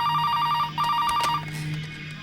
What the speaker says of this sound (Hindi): फोन बज रहा है, उठा ले।